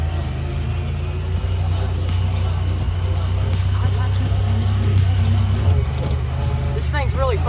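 A 2022 Honda Pioneer 1000-5 side-by-side drives along a messy wooded trail, its engine a steady low drone with occasional revving, loud and close, while someone talks over it.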